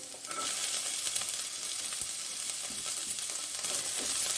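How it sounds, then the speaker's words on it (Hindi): Capsicum and sliced vegetables for veg spring rolls roasting over a high flame, a steady loud sizzle with faint stirring scrapes running throughout, no voices. "उनको अपने हाई फ्लेम पर सिर्फ 1 मिनट के लिए रोस्ट करना है"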